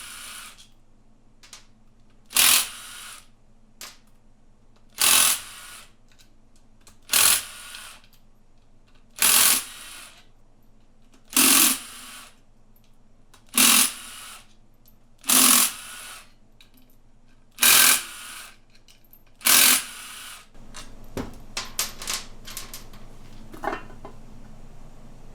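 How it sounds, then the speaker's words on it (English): Perimeter 10 mm oil pan bolts being loosened on a Honda CB550 motorcycle engine, nine evenly spaced sharp mechanical bursts a few seconds apart, then a short scatter of lighter clinks and rattles. "we can remove the perimeter oil pan bolts."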